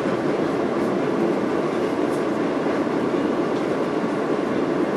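Amtrak train riding toward Washington DC, heard from inside as a steady, even rumble of wheels on rail with no pauses, constant and close for the whole stretch.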